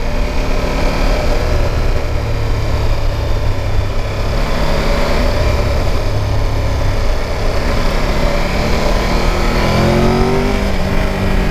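A Triumph Tiger 1200 GT Pro motorcycle engine roars steadily and loudly throughout at about 5,000 rpm, holding high revs with a constant, buzzing drone and a slight rise near the end.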